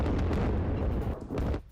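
Heavy, rumbling blasts from a US Air Force bombing strike on an Iranian ballistic missile launcher, a continuous loud roar with several booming surges before it drops away at the end.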